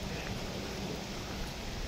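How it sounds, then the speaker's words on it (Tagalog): Light rain falls steadily at a beach resort in Laiya, Batangas, a soft continuous hiss of drops with no voices. "ikot-ikot tayo habang nag-uulan"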